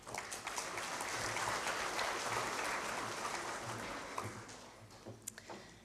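At a school awards ceremony, an audience claps in a broad, sustained round that swells and then thins out into scattered final claps over several seconds.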